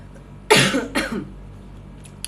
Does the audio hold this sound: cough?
yes